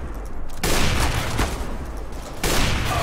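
AWP sniper rifle fire in Counter-Strike: Global Offensive, with loud, sharp reports that burst in at the start and again near the end, each followed by a broad, sustained roar.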